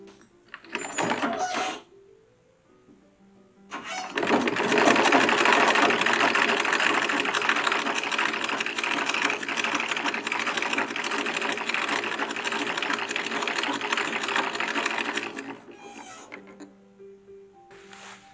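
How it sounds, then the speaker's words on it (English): A sewing machine bastes two fabric layers together for a modern mock-up of a historical gown. A brief run is followed by a pause, then a steady, loud stretch of stitching of about eleven seconds before it stops. "Now we're going to sew the 2 layers together just so they are basted and they stay in place."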